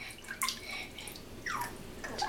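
A small child splashes water in a bathtub, with a few light slaps and sloshing bursts close by, soft and intermittent.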